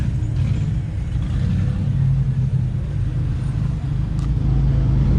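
Idling Studebaker fitted with a Chevrolet engine at a Redneck Rumble car show, giving a steady low rumble throughout with no talking.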